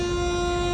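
A passenger express train's horn blares at Varkala railway station, one sustained, loud, steady tone held through the whole moment.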